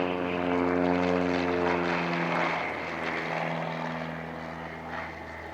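Propeller airplane performing aerobatics at an air show, its engine drone loud and steady with strong harmonic bands, shifting slightly in pitch as the aircraft maneuvers overhead, heard alone without talk.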